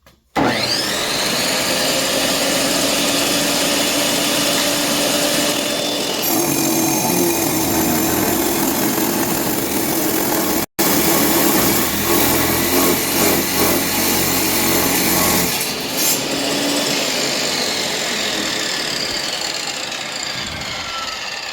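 A tile saw fitted with a brand-new blade cuts tile, its loud, continuous grinding whine shifting in tone as the blade bites, broken by one brief dropout midway, close and without speech.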